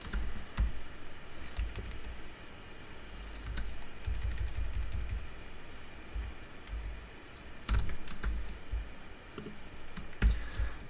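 Code being typed on a computer keyboard in a steady flurry of close, crisp key clicks with a few louder taps, heard alone without speech.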